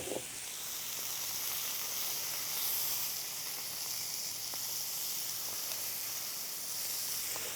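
Glazed chicken and pineapple kebabs cooking in a little oil, giving a continuous soft sizzle and hiss with faint crackles, steady and moderately quiet throughout, with no talk.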